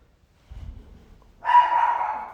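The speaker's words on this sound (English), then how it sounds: "And there's my dog." A dog gives a short, muffled low rumble, then one loud sustained bark or yelp from nearby.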